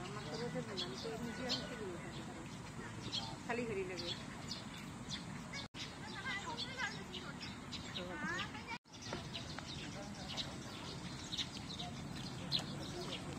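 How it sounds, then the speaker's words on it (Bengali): Sparrows chirping on a university campus in Beijing, quick high tweets scattered through a busy outdoor background, fairly faint, with voices talking over them. "চাইনিজ চড়ুই পাখি"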